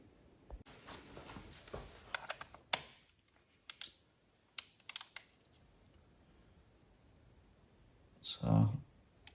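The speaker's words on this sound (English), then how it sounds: "we just need to tighten the spark plug by 1/2 to 2/3 of a turn" Ratchet tightening a spark plug on an Audi A1 1.4 TFSI CAXA engine, quiet scattered clicks and short ratcheting bursts separated by pauses, with a brief thud near the end.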